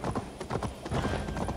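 Horse hooves clip-clop at a steady trot in Assassin's Creed Valhalla. The rhythm is fairly close but soft, with a faint whinny-like tone under it.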